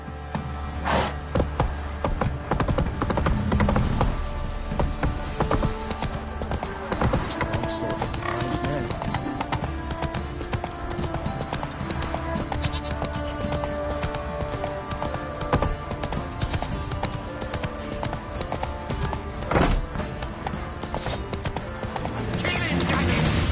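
Hooves of Roach, a horse in The Witcher 3, clip-clop in a steady fast gallop throughout, loud and near, with game music and a voice talking over parts of it.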